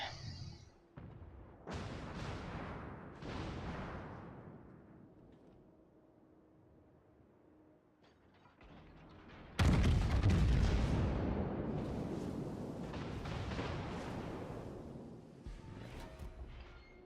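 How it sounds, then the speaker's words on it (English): Naval artillery from the warship battle game World of Warships: a few deep booming salvos with rumbling decay, then a long loud roaring burst of shell fire and explosions that fades unevenly. "Enemy Edinburgh is still alive and shooting at me."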